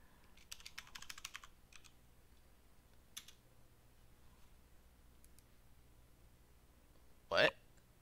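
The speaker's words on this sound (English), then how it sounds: "I had to press enter on the keyboard." Typing on a computer keyboard, with a quick burst of clustered key clicks near the start and a few isolated taps afterward, followed by a sharp, louder knock near the end, all against a quiet room background.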